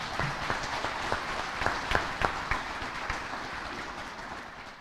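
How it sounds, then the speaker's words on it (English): A board meeting audience applauds an award recipient with a short, moderate patter of clapping. A few louder claps stand out, and the sound thins toward the end. "Big round of applause."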